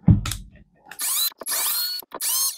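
A cordless power driver running screws into a motion sensor light switch: an initial clunk, then three bursts of high whirring, each lasting about a quarter to half a second, close and fairly loud with short gaps between.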